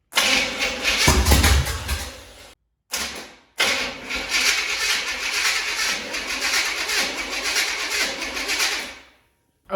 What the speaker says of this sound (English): We tried to turn it over a couple of times, but it wouldn't start due to our battery